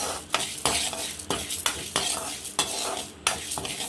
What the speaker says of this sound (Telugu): మినపగుళ్ళు కూడా కొంచెం లైట్గా దూరగా కమ్మగా వాసన వచ్చేదాకా ఫ్రై చేసుకున్నాక